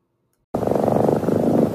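After a brief silence, a close, steady cat purr starts abruptly and rumbles on continuously, loud and even.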